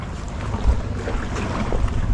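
Gusty wind rushing over open sea, buffeting the microphone in uneven low thumps, with a small fishing boat rocking amid the steady windy noise.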